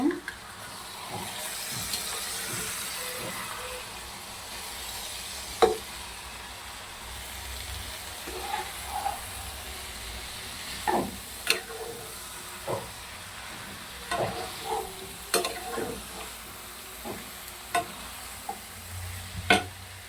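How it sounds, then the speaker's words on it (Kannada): An egg frying with broccoli in a pan, stirred slowly with a utensil, giving a steady sizzle broken by repeated scraping and clinking strokes near the microphone, with no one talking. "ಈಗ ಮೊಟ್ಟೆ ಚೆನ್ನಾಗಿ ಸ್ವಲ್ಪ ಫ್ರೈ ಆಗಲಿ ಅಲ್ಲಿವರೆಗೂ ತಿರುಗ್ಕೊಳ್ಳೋಣ ನಿಧಾನಕ್ಕೆ ಇದನ್ನ ತಿರುಗಿಸ್ಕೊಳ್ಬೇಕು"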